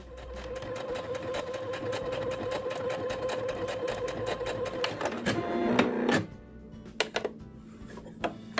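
A Singer SE9185 sewing machine stitches fabric in a steady, loud, rapid mechanical whir that runs for about six seconds, then stops with a few brief clicks and knocks as the work is handled.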